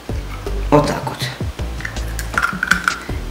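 A raw egg is cracked and tipped into a dish of water in a home kitchen, giving a series of sharp close knocks and clicks with wet squishy drips between them.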